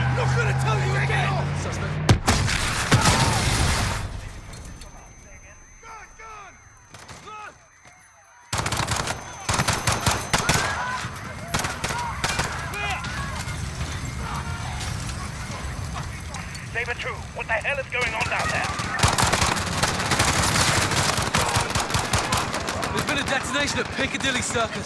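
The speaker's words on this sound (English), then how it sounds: "Shots fired." Bursts of automatic gunfire and single shots in a Call of Duty Modern Warfare police raid, loud and close, with a brief near-silent pause, then more firing under shouting voices.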